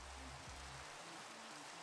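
Steady rain from a thunderstorm in the Minecraft video game, a dense even hiss of falling drops filling the whole stretch with no gaps, joined by faint low tones in the background.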